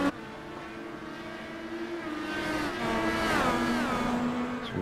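Indy car engines in the iRacing sim at a Montreal round, a steady high-pitched whine that climbs and sweeps as the cars accelerate and pass, loud and continuous with no voices.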